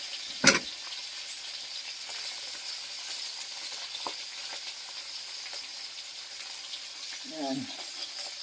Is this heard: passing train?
no